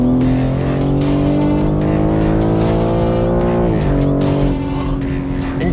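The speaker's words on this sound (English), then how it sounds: "that's a turbo engine, and the sound is so lovely" A turbocharged BMW M4 drift race car engine wails at high revs while drifting, with squealing tires and a steady, loud droning tone that dips briefly.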